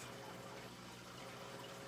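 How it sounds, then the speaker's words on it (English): A small DIY aquarium auto top-off pump runs and moves water, giving a low, steady hum with a faint watery rush that stays constant and fairly quiet from start to end. "It's pumping and there's enough water for it to pump, so it's good to go."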